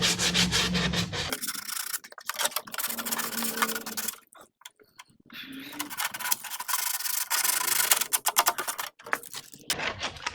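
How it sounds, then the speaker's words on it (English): Sandpaper rubs hard over the outside of a molded Shoretrooper/Deathtrooper armor collar, a loud, close, gritty scraping in rapid back-and-forth strokes that stops briefly midway, then resumes. "We're going to sand the outside of the molded end collar section."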